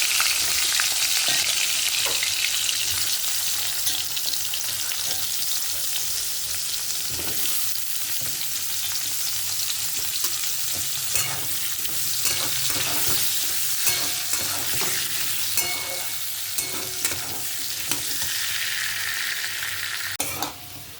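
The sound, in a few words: cut potatoes frying in hot oil in a wok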